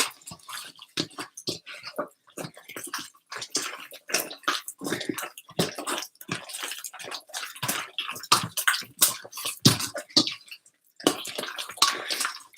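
Hands squeezing and squishing salt and water into bread dough, giving a run of irregular wet squelches and slaps at close range, with a short pause near the end.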